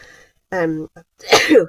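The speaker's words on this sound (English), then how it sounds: "Why do I always have to sneeze when I go live" A single sharp sneeze bursts out near the microphone, preceded by a brief voiced sound and a short breath.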